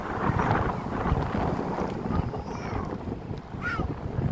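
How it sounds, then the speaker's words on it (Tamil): Broad rushing wind buffeting the microphone, steady and fairly loud, with faint higher tones passing through near the end. "காற்று அடிக்குது."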